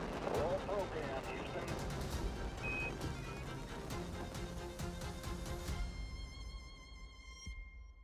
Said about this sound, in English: Liftoff of the Space Shuttle Endeavour on an ambitious mission to service the Hubble Space